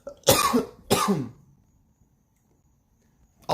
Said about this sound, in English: Also coughing quite a bit,